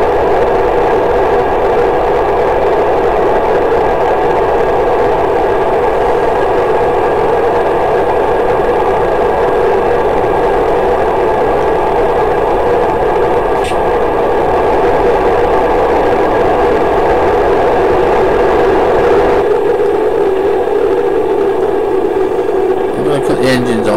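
A rocket engine in the Kerbal Space Program game roars as a steady, loud, unbroken drone that holds for the whole stretch. It shifts slightly near the end.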